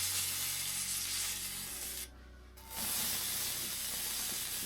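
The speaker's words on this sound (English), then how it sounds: "right here I'm just basting the fish a little bit" Haddock fillet basting in a hot pan gives a steady, close sizzling hiss that fills the clip, briefly dropping to a quieter lull partway through before the loud spattering resumes.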